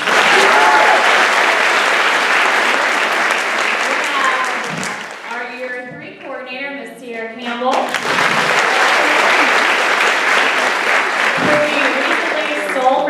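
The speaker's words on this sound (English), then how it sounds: "let's give him a round of applause." A large lecture-hall audience of new students claps loudly and steadily for about thirteen seconds, with a brief dip in the middle where voices and cheers come through before the applause swells again.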